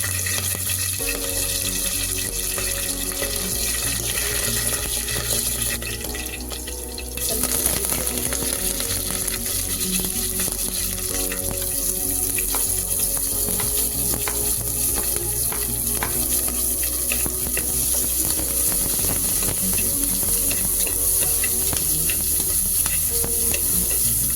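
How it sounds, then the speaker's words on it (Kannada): Green chillies and mustard seeds sizzle steadily in oil in a pan, a loud, continuous frying crackle with stirring scrapes throughout. "2 ಹಸಿಮೆಣಸಿನಕಾಯಿನ ಕಟ್ ಮಾಡಿ ಹಾಕ್ಕೊತಾ ಇದ್ದೀನಿ."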